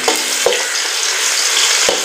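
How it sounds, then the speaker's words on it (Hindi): An onion fries in hot ghee with a loud, dense sizzle throughout, broken by a few soft scraping stirs of a spoon in the pan. "तो मैं घी गर्म हो चुका है जी, सबसे पहले डालते हैं जी 1 अदद प्याज"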